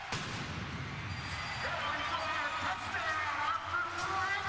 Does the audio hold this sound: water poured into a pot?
no